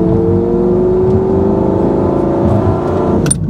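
A 2004 Lamborghini Gallardo engine revs steadily and loudly up close, with a rising whining tone and a brief crackle near the end that may be a backfire.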